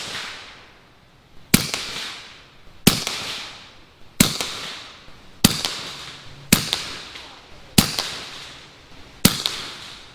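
Eight sharp, loud gunshots from a Bintac T9 gun fired at a target outdoors, spaced at a steady rhythm about a second apart, each crack followed by a short decaying echo.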